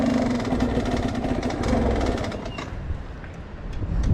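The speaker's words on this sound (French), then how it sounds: "Déjà c'est cool, démarreur électrique." A motorbike engine, just fired up on its electric starter, runs steadily at close range with a constant mid-pitched rumble for the whole stretch and no voices over it.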